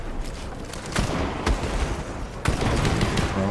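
Fortnite gunfire: repeated sharp shots and crackling bursts from a game battle, fairly loud and dense, with a few stronger hits standing out and no talking.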